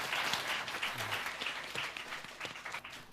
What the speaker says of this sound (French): Je vous demande encore d'applaudir très très fort.